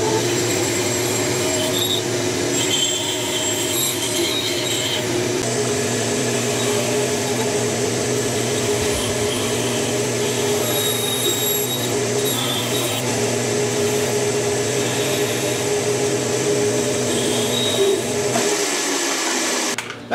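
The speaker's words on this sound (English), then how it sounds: "You gotta be really careful when you're doing tiny pieces like this on the bandsaw" A bandsaw cuts a small piece of soft wood, its steady motor whine and blade buzz running loud and continuous for about twenty seconds before cutting off at the end.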